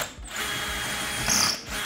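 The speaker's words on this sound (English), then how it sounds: "now we went ahead and drilled all those pilot holes" A power drill whirs steadily while boring pilot holes for lag screws during a TV mount installation, a continuous close motor whine that briefly rises in pitch.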